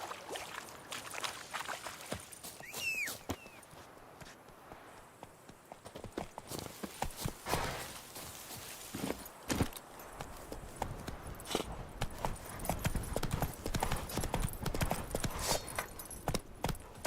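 Horse hooves clip-clop steadily in a video game, a continuous run of close hoofbeats mixed with light ambient game sounds.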